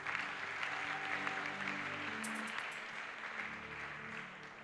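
A church congregation applauds during a worship service, a steady wash of clapping from many hands that fades slightly toward the end, with faint voices underneath.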